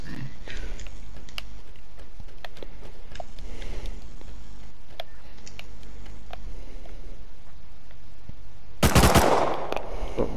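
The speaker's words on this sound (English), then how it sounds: "Yeah, I hear shooting." Gunfire in a video game, with rapid bursts of shots spread across the clip and a louder, close burst near the end, over a steady background.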